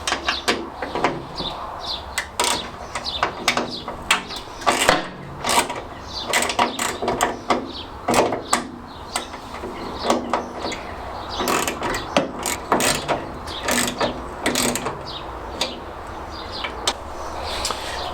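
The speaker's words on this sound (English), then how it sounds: "They are 10mm bolts, and what we need to do is remove those." A ratchet wrench loosens the 10mm bolts holding the bonnet of a classic Fiat 500, giving repeated close, crisp clicking bursts with short pauses between them.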